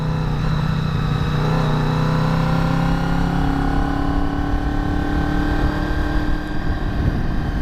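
A Honda VFR 800 motorcycle is ridden on an open road. Its engine holds a steady, loud drone with a gradually shifting pitch, layered with constant wind rush throughout.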